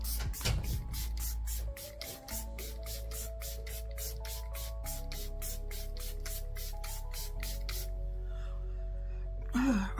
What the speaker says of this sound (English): So that was a very fine mist.